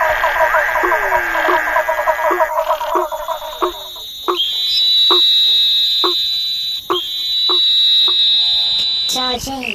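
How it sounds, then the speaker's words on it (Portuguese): Hammer frogs in a marsh knock in a steady series of sharp, metallic clicks about twice a second. Ringing high tones sound alongside the knocking, and other calls fill the background. "São sapos."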